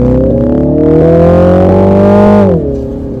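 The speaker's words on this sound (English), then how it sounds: "The car definitely does go very fast, super loud." A loud 2021 Mini Countryman JCW sports SUV's 306 hp engine revs hard as it accelerates on an open road, pitch climbing steadily before easing off at the end; no talking.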